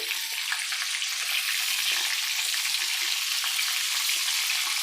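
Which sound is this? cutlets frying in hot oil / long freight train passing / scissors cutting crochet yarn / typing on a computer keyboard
cutlets frying in hot oil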